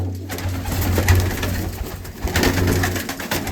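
Old, long-kept pigeons cooing close by, a continuous run of low, throaty, rolling coos layered over one another with no talking.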